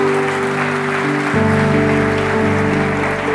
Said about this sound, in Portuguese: Alguém pode aplaudir Jesus hoje aqui?